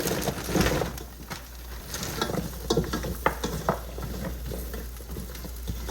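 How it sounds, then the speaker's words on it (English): Pierogies sizzling in a pot on medium-high heat, a steady close frying hiss with scattered clicks and scrapes of utensils, no voices. "now medium to high heat, I'm gonna add my pierogies"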